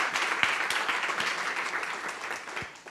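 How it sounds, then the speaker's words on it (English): Applause at a business school master's open day as new admits are welcomed: a full room clapping steadily, dense and even, gradually thinning and fading toward the end. "Can we give a well round of applause for those young men?"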